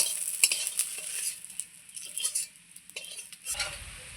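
Fish sizzling and crackling in hot oil in a home kitchen, a steady low fry with scattered pops and spatters, plus clinks and scrapes of a utensil stirring and lifting pieces from the pan.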